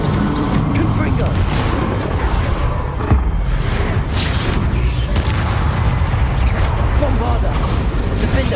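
A Confringo fire spell in Hogwarts Legacy blasts through a constant, dense battle din of booms and whooshes, with a loud low rumble and voices mixed in.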